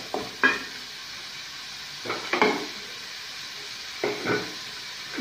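Onions cooking in a pan while being stirred, for a street-style masala sundal snack; a low steady sizzle with three soft bursts of scraping stirring spaced about two seconds apart.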